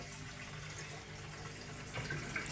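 Water runs steadily into a home fish tank during a partial water change, a continuous close pouring and splashing wash that swells slightly toward the end.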